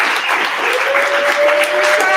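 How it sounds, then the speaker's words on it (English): An audience at a panel discussion on a public commons for discovery and innovation applauds its panelists: dense, steady clapping fills the room for about two seconds, with a faint sustained tone running underneath. "a round of applause for them"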